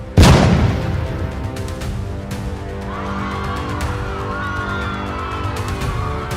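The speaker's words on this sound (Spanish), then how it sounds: "Mella logró que todos tomaran el impulso necesario y luego lanzó un disparo." A single loud gunshot bursts out at the start and fades into a lingering rumble, followed by a steady bed of crowd noise and faint tonal sounds.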